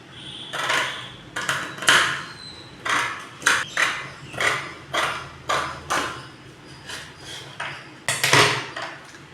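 Scissors cutting blouse fabric for cross-cut tailoring: a steady series of crisp snips, roughly one every second, close and fairly quiet, with no talking over them.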